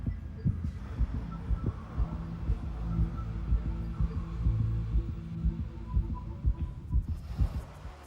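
A faint, steady heartbeat throbs in a regular rhythm of quick double pulses over a low hum, with no talking.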